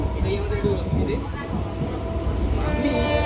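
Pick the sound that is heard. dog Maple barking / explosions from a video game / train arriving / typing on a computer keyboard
train arriving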